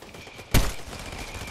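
A single sharp gunshot from Call of Duty Warzone cracks out close and loud, followed by a short ringing tail over quiet game ambience.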